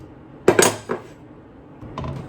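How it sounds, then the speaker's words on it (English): Metal spoon knocking and scraping inside a cooking pot of coconut lentil curry with turmeric and salt, a few sharp clanks in quick succession, then a softer clink later, close and otherwise quiet. "And you stir the pot a few times and let that cook for about 5 minutes"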